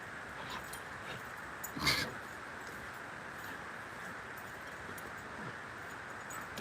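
Dogs give a faint, brief whimper or yip near the middle, set against a steady background hiss with no talking.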